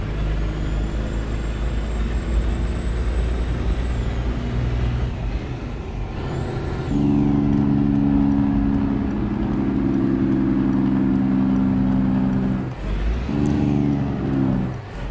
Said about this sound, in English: Nice sounding Jake brake too.